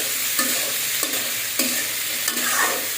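Bitter gourd (karela) slices fry with salt in a pan, sizzling steadily up close while a spatula scrapes and stirs at regular intervals, about four or five strokes, with no one speaking.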